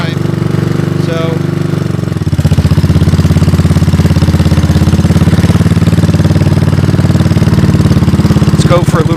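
A 1983 Honda ATC200 engine running close by, a rough single-cylinder putter that steadies into a loud, even idle after a brief quieter start.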